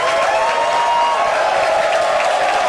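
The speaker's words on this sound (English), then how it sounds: "show of applause" Steady, dense applause from an audience at a live online mentoring session, loud and continuous from start to finish with no pauses.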